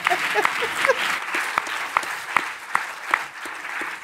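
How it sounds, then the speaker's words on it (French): Audience applause for Vincent Giovanni at a talk, a soft, even patter of many hands with a few sharper individual claps standing out, moderate and somewhat distant, with a voice briefly heard early on. "je vous demande d'applaudir Vincent Giovanni, s'il vous plaît"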